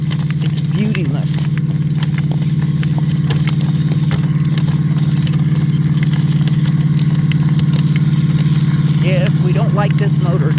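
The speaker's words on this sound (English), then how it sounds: "we don't like this motor, do we? It is so noisy." A noisy motor drones steadily and loudly near a muddy wheat field, a constant low hum running unbroken throughout while faint background sounds come and go.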